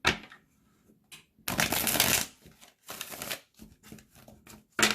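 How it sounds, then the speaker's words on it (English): A deck of cards is riffled and shuffled close by in quick, crisp bursts of rapid flutter, broken by short pauses and a few light taps. "I can't shuffle."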